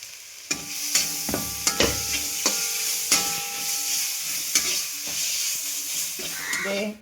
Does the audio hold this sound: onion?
yes